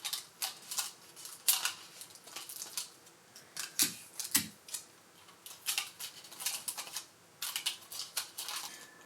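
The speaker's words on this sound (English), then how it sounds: "Just tape around the edge here so it doesn't go anywhere." Tape being pressed and wrapped around the edge of a camera lens cap, with quiet, irregular crinkles and sharp snaps of handling, close up with no talking.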